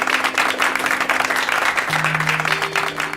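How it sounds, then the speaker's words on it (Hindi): Loud, sustained applause from a studio audience on a Hindi quiz game show, dense rapid clapping throughout with steady musical tones sounding underneath. "एक बार जोरदार तालियां।"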